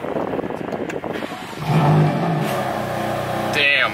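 A BMW M3 CS engine cranks and fires up, then settles into a loud, close idle with a deep steady drone, capped by a quick sharp rev near the end.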